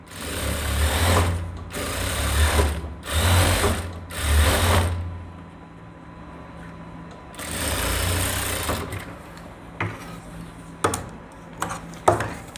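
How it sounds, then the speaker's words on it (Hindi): Close, loud runs of a sewing machine stitching a waistband belt onto trousers, four quick bursts of rapid needle whirring separated by short pauses, then one longer run followed by light handling clicks. "टिकट पॉकेट के ऊपर यहाँ से बिल्कुल सिलाई स्टार्ट करेंगे और बेल्ट के इस साइड आगे सिलाई कर लेंगे"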